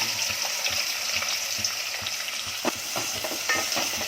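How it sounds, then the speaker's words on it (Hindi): Onions sizzling and frying in hot oil for green peas pulao, a steady close crackle with stirring scrapes throughout. "अब तेल को उसकी खुशबू मिल गई ना, अब ये प्याज जाएगा।"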